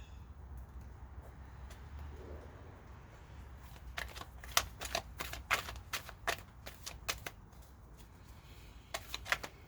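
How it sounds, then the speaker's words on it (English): Tarot cards are shuffled and drawn close up, with a burst of rapid, crisp riffling clicks over a quiet low hum and a few softer card slides before and after. "So I'm going to pull 3 cards."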